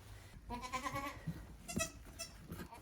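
A small-bodied goat bleats just after giving birth on a farm, letting out a long wavering cry and then a shorter one, close and clear above a soft background.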